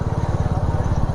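A Royal Enfield Meteor 350 motorcycle rides along with its single-cylinder engine thumping steadily and close, a low, even pulse throughout the brief moment.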